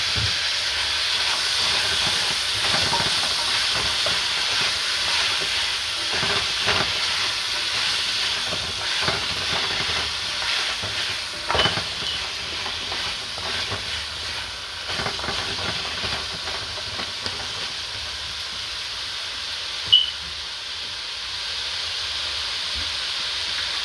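Pumpkin hitting a hot pot of jerk rice, giving a steady broad hiss and sizzle that carries on with small crackles and faint stirring knocks.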